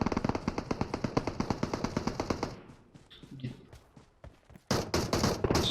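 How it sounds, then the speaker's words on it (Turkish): Rapid automatic gunfire rattles from a PUBG Mobile match on the Erangel map, a long, even burst of loud shots that stops abruptly, followed by quieter scattered cracks and rustling, then a sudden loud noise near the end. "Bak buradaki de oraya sıkıyor şu anda."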